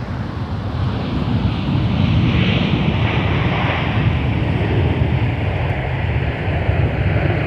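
Delta Boeing 737-900 arriving at Minneapolis–St. Paul airport, a loud, steady broadband jet roar with wind rumble, sustained for the whole stretch with no voices.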